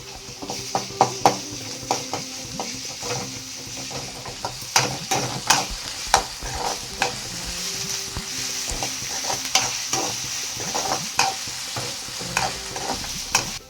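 Cumin and ginger-garlic paste fry in a pan for a flat bean fry, a steady close sizzle broken by frequent sharp scrapes and clicks of a spatula stirring against the metal.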